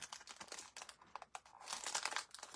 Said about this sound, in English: all of these are in plastic bags, but I am taking them out for now